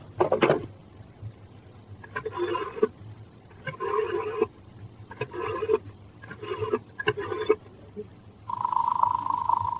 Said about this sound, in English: That's the usual turn of the ringing signal.